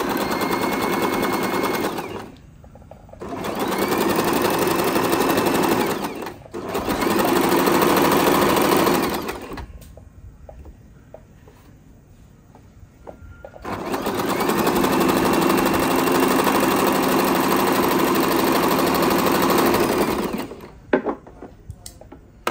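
A sewing machine stitching cotton fabric runs in three long, steady bursts of loud, rapid mechanical clatter, separated by short pauses and quieter handling.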